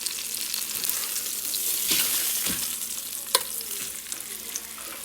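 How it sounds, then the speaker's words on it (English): A beef roast sears in hot vegetable oil in a pot, a steady close sizzle and hiss with a few sharp crackles and pops as it browns. "I'm going to place my roast in there, and I'm just going to sear it for a few minutes on each side"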